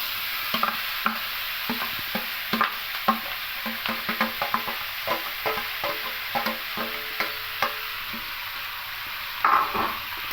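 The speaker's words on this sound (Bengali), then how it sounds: "লাল লাল করে ভাজা হয়ে গেছে এবার সবজিগুলো সব দিয়ে দেবো" Garlic and vegetables fry in oil for masoor dal while a spoon scrapes and stirs the pan in irregular, sharp strokes over a soft, continuous sizzle, with no talking.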